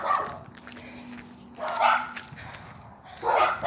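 Several dogs bark in short bursts during an evening Christmas walk, loud clusters of yaps and barks spaced about a second apart outdoors, with a faint steady hum underneath.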